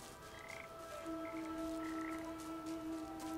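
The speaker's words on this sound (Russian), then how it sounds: "Лягушки у нас здесь." Frogs croak in the video game Papo & Yo, repeated soft croaks over a low ambient drone and a sustained tonal hum, faint and with no talk.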